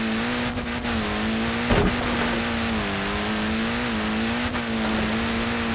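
In Forza Horizon 4, an off-road car's engine drones loudly and steadily, its pitch wavering slightly as it revs, with one brief thump partway through and no talking.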